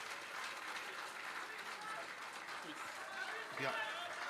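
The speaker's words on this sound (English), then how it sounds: "Please give a big round of applause." An audience at a professionals summit gives a round of applause, a steady wash of clapping heard from a distance, with voices mixed in.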